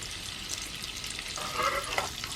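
Oil and about 50 grams of butter heat together in a pan, giving a soft, quiet, continuous sizzle that swells slightly toward the end, no talking.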